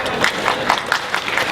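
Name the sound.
audience applause at an audio launch event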